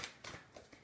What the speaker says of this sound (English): now I'm going to shuffle the Ascended Masters deck.